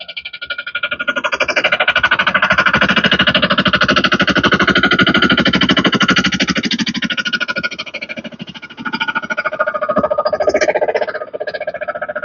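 A small two-and-a-half-foot tractor engine runs close by on a farm, with a steady, loud chugging rumble that dips briefly before picking back up.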